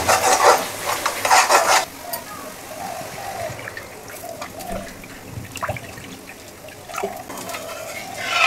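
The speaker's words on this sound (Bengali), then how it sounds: "তো এখন এটাতে দিয়ে দেবো জল।" Water poured into sizzling, oil-releasing masala for a mourala fish curry, a hissing burst at the start fading to a softer simmering crackle with light stirring and faint splashes, close and alone.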